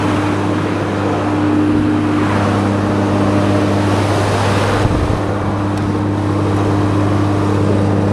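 A large farm tractor's engine runs at a steady, loud drone while driving a grain auger through its power takeoff during corn work, with no pauses or voices.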